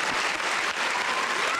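Audience at a press briefing clapping, a dense burst of applause from a crowd, steady and moderately loud for its short length.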